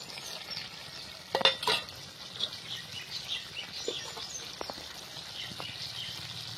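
Pieces of fried sea mola fish go into a pan of potato and eggplant curry, giving a soft, steady sizzle with a few stirring clinks and scrapes, faint birds chirping in the background.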